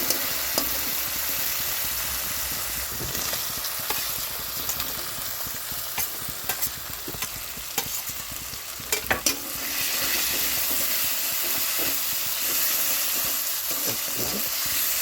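Fried potato and bitter gourd pieces are stirred in a sizzling pan. A constant hiss of frying is broken by sharp utensil scrapes and taps, bunched around the middle, with no talking.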